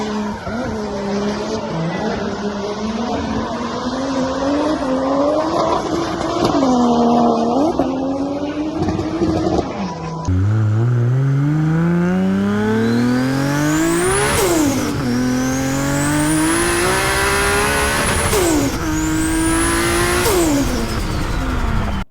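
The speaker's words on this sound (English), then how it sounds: "the 2JZ is one of the best sounding engines around" Toyota 2JZ engine revving hard in a car, loud and close, its pitch climbing and falling through repeated high-rpm sweeps, with a shift in tone midway and no talk.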